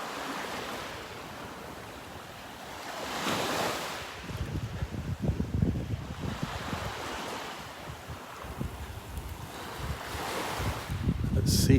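Ocean waves wash onto a beach in North Naples, Florida, at low tide on a morning walk, with surges swelling and receding every few seconds under steady gusty wind noise, fairly near.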